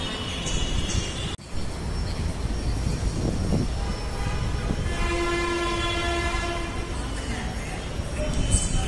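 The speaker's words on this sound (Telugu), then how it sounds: "నిఖిల మెట్రో ట్రైన్ ఎక్కుతుంది జేజు, నువ్వెప్పుడు ఎక్కుతావు?" Metro train at a station, heard as continuous rumbling rail noise with a sharp transient and a steady tonal hum or horn-like tone partway through, under faint background talk.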